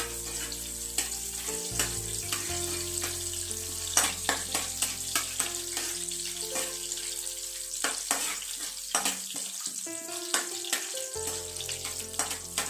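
Whole cloves, cardamom pods and a piece of nutmeg sizzle as they heat in a pan, with a steady frying hiss and repeated clinks and scrapes of a spoon stirring them.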